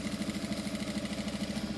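A sewing machine runs a short safety seam on a plastic-fronted fabric pouch, giving a steady fast mechanical chatter with even rhythmic pulses, close and continuous.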